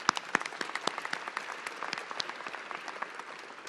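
A modest crowd at a press briefing claps steadily, a scattered patter of hand claps at moderate volume with no voices.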